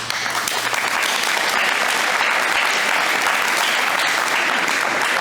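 Audience applause at a Smith Academy high school graduation in Hatfield, Massachusetts, a loud, dense, continuous clapping from a large crowd that holds steady throughout with no talk.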